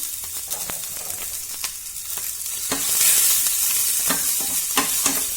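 Half a cabbage sautéing in oil for Gujarati carrot and cabbage parathas, a continuous close sizzle with intermittent spatula stirs and clicks against the pan, no talking.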